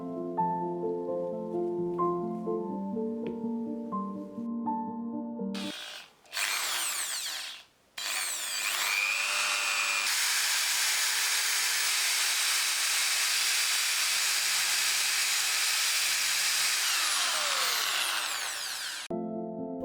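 Electric drill fitted with a wood bit boring through solid wood, a loud steady high-pitched whine with brief stops near the start, then one long continuous run alone.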